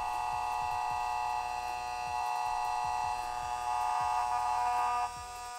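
Sensored brushless RC motor whining steadily at high pitch during a timing check, a loud buzzing hum with a faint rubbing rasp as it catches on plastic, running alone for about five seconds before dropping slightly.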